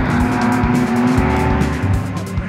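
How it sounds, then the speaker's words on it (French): A Batmobile replica drifting at a classic car rally, its engine roaring loudly and close with tires squealing in sustained howls under the revving. "Christophe également à bord de sa Batmobile Drift sans vergogne."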